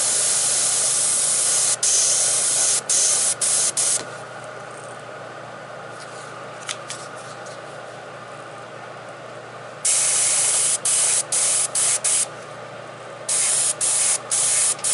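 An airbrush sprays paint over a flame stencil in short bursts: a loud, close, steady hiss that cuts off briefly several times, goes quiet through a long middle gap, then comes back in choppy bursts.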